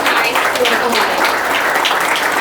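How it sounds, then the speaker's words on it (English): Audience clapping for the Escamillas at an entrepreneurship gathering, a steady roomful of applause with voices speaking over it throughout. "Let's give the Escamillas a round of applause"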